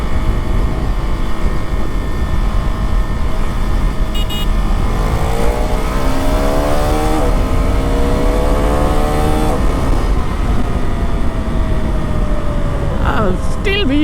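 A 2025 KTM Duke 390 motorcycle accelerating hard, its engine note climbing through several rising sweeps between gear shifts over loud, constant wind roar, heard close from the rider's position.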